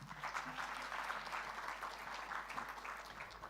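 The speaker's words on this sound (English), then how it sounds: "Let us give a big round of applause." An audience at an Indonesia-Europe investment forum applauds steadily as the EU ambassador to Indonesia and Brunei Darussalam is welcomed on stage, a sustained wash of clapping at moderate, even loudness throughout.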